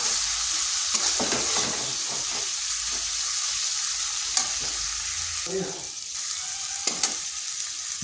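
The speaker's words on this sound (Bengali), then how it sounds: "এরপর আঁচটা স্লো করে মশলাটা খুব ভালোভাবে কষে নিতে হবে।" Spice paste with Kashmiri chilli and turmeric powder frying on low heat for egg bhujia, a continuous close sizzle broken by repeated spatula scrapes and stirring clatter, no voices.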